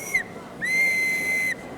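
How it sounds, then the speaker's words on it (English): An antique auctioneer's whistle used to call order in an auction room is blown twice, a short shrill blast followed by a longer sustained tone, clear and close against a quiet room. "The whistle."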